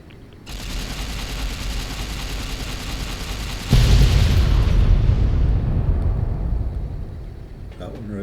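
Explosion in the Fallout New Vegas video game, a dense roaring blast with a sudden deeper boom midway, then a fading rumble while a voice talks over it.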